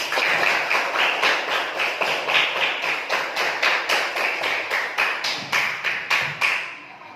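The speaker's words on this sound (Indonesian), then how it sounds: "Tepuk tangan bagi semua kelompok." Schoolchildren in a classroom clap for every group after a seed-collage activity, a steady, evenly spaced run of hand claps carrying on for several seconds before fading out.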